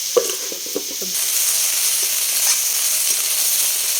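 Rice and a bean vegetable dish cook on a stove with a steady sizzling hiss, a few light clinks of utensils near the start, then continuous even bubbling and frying.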